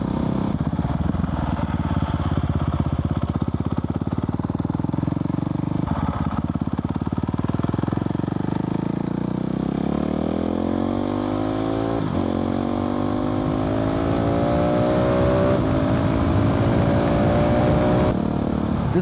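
A Husqvarna 701 motorcycle with an Arrow exhaust and a quickshifter is ridden hard. The single-cylinder engine drones loudly and continuously as the revs climb steadily through a long pull, with a brief dip as it shifts.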